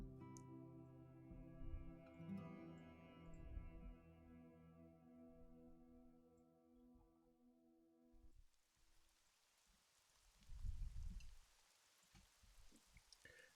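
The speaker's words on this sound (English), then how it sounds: "dark storm clouds cascade rain across the cobblestones of Windward Lane" Rain pours steadily onto the cobblestones of a lane under dark storm clouds, a soft continuous hiss with a few louder splashing swells. It starts faint beneath a sustained tonal music bed, which drops out partway through and leaves the rain alone.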